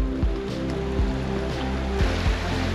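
Mountain stream water rushes steadily at a river crossing in Rocky Mountain National Park, a broad continuous wash with a few low thumps, fairly close and without talk.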